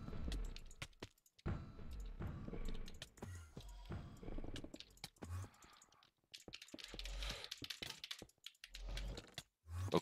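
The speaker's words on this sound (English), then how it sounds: "you can probably hear me just smashing my keyboard for the tongue swaps." Someone hammers rapidly on a computer keyboard while gaming, producing quick flurries of close key clatter broken by short pauses, fairly quiet overall.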